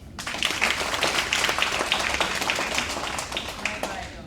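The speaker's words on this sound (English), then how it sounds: "All right, give a round of applause" Guests at a youth baseball league banquet clap together in a room, steady, moderately loud individual claps blending into applause, with a voice speaking over it.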